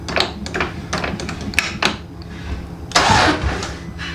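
Exocet kit car engine with internal noises cranking and sputtering as it is started in gear, with rhythmic chugging pulses, then a louder rough surge at the end.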